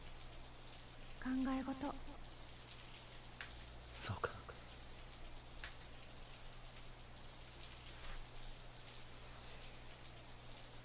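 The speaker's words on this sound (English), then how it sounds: "And it just so happened to be raining like this." Steady rain falls in a Steins;Gate 0 video game scene, a soft continuous patter and hiss throughout, with quiet Japanese speech and whispering heard over it.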